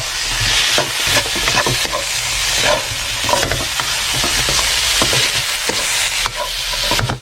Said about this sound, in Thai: แล้วก็ผัดซ้ำเลยนะฮะ